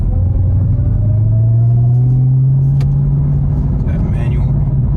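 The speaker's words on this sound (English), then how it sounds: "Let's just hit sport, see what happens. You hear that supercharger?" Supercharged Dodge Charger Hellcat Redeye engine in sport mode, a loud deep rumble with a rising supercharger whine swelling over a few seconds, heard close up.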